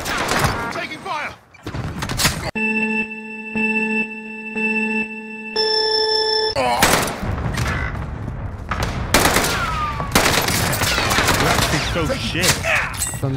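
Gunfire in a battle royale video game, with several bursts of rapid shots and thuds around tonal game alert beeps. Players talk over the fighting throughout.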